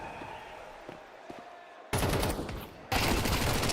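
MAC-10 submachine gun fire in Counter-Strike during a professional match, two loud sustained rapid bursts following quieter ambient game sound with faint scattered shots.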